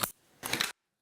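Two quick crisp scissor snips trimming the stem of a fly-tying feather, close and dry, with silence after.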